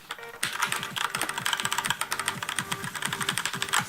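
Several keys pressed together on a GearHead 92-key mechanical keyboard fitted with Kailh Red linear switches, giving dense clusters of sharp clacks with bottom-out thuds, close and continuous.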